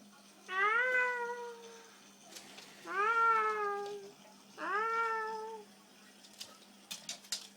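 A cat gives three clear, drawn-out meows at a steady pace against a quiet background with a low hum, followed by a few faint taps.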